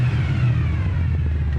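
A 1972 Chevrolet Nova's engine runs with a deep, steady rumble at idle, loud and close, holding an even low throb without talk over it.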